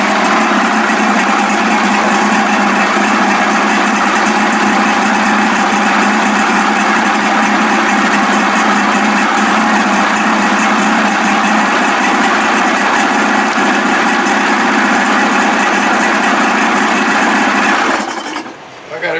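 A 55 hp Evinrude outboard motor runs steadily and loudly up close, a continuous buzzing drone that cuts off abruptly near the end.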